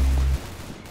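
A single loud, booming sniper rifle shot in an arsenal-style shooter game, with a heavy low thump cutting off abruptly into a faint lingering tail.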